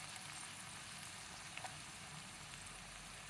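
Finely chopped onions, tomatoes and green chillies with ginger garlic paste sizzling in a pan for masala oats, a steady faint frying hiss with occasional small crackles and no voices.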